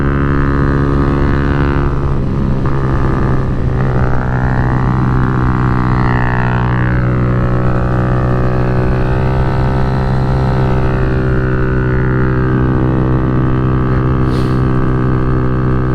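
A Kawasaki Z125 Pro motorcycle engine heard while riding, with a steady, loud drone whose pitch rises and falls gently as the throttle shifts, and wind noise throughout.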